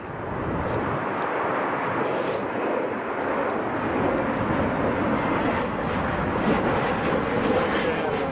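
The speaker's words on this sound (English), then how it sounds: "Waiting for this little Embraer to make his way out, way towards us." Steady broadband roar of jet engines as an Embraer jet taxis at Chicago O'Hare, constant and fairly loud throughout with no clear speech.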